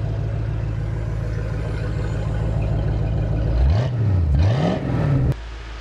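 A 1966 Ford Mustang with a 289 cubic-inch V8 and twin mufflers idles with a deep rumble, then revs up and down twice in quick swells before dropping abruptly back to a quieter idle, loud and close.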